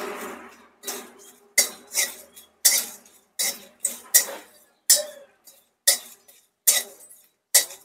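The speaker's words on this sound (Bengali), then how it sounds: "তো এগুলো খুব ভালো করে একটু হালকা ভাজা ভাজা করে নেব।" Fennel, dried chillies and nigella seeds dry-roast in a pan, stirred in a regular series of sharp metallic scrapes and clinks, about a dozen strokes, close and distinct with quiet gaps between.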